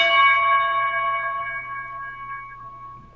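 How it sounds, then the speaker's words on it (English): A single bell strikes as the closing sound effect of a comic book project trailer. The ringing tone decays slowly over about three seconds with no other sounds. "So I just put a bell at the end of the trailer."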